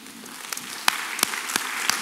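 A church congregation applauds during a Sunday worship service, sharp individual claps standing out over a steady wash of clapping that carries on throughout.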